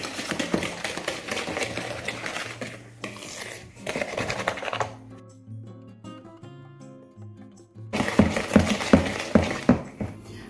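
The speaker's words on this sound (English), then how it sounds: "first we're going to whisk our eggs, cornstarch and sugar together" Eggs, cornstarch and sugar get whisked in a bowl, giving bursts of rapid rattling and scraping of a whisk against the bowl, broken by a quieter pause in the middle before the brisk whisking resumes.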